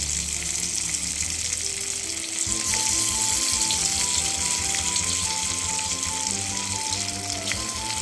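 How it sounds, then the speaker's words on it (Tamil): Marinated, pre-cooked mutton 65 pieces fry in hot oil, a loud, steady, close crackling sizzle that thickens as more pieces go in, without talk. "எண்ணெய் காய வச்சுருக்கேன். இதெல்லாம் ஒவ்வொன்றா போட்டு எடுக்கிறேன்"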